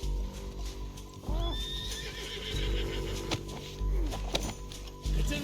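A horse in the Red Dead Redemption 2 video game lets out a loud, close whinny over steady hoof clip-clops and game ambience, with a second quavering neigh later on.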